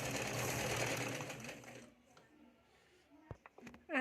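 A sewing machine stitches a straight seam on a blouse sleeve, a fast continuous whirr up close for about two seconds before stopping, followed by quiet handling clicks and taps.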